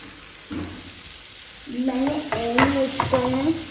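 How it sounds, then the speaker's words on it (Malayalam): Mango pickle mixture being stirred in a pan for a mango, lemon and garlic pickle, a soft steady sizzle with scraping strokes that grow louder and busier after the first second and a half, close by with no talk. "എന്നിട്ട് നന്നായിട്ട് മിക്സ് ചെയ്ത് കൊടുക്കണം"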